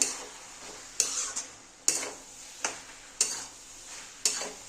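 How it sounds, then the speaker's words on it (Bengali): A pot of ash gourd and mung dal curry with ginger paste stirred by hand, giving five or six distinct scraping strokes about a second apart over a faint simmering hiss, close and fairly quiet. "এবার দেবো একটু আদা বাটা, আবার একটু নেড়ে দেবো"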